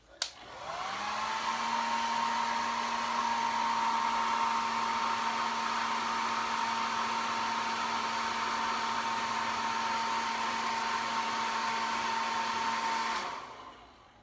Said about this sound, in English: I'm going to have to give it a little bit of a blast of the dryer